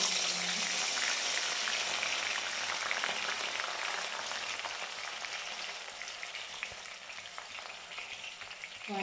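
Eggplant pieces fry in hot oil for an eggplant moju, giving a steady, close, dense sizzle and crackle that runs throughout with no voices.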